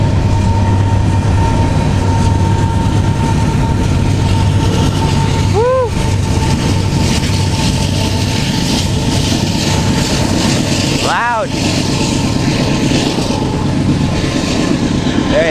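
Freight train with a caboose rolling past at about 20 miles an hour near the end of its length, a loud continuous rumble and clatter of wagons with squealing wheel screeches, heard close up from a bike commute.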